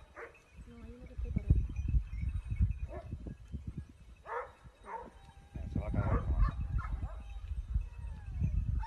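A pack of hunting dogs bark and yelp in short bursts while holding a deer on a steep slope, amid excited human talk, with scattered high whines and shouts throughout.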